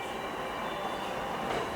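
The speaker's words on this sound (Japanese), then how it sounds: "シャンアローな黒潮号は30分で御坊駅に到着。" A 283 series Kuroshio express train arriving at Gobo Station makes a soft, steady rolling rumble with a faint high whine on top, heard briefly and at low volume.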